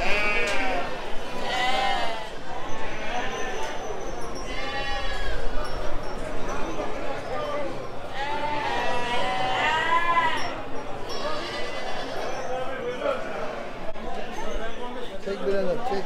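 Many sheep and lambs bleat over and over, overlapping in a noisy flock at a livestock market in Havran, Balıkesir, with people talking faintly in the background.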